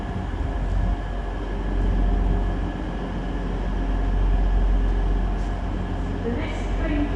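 A train pulls away from a London station platform, giving a steady, continuous low rumble that swells slightly as it moves off, with faint station noise and the murmur of people nearby.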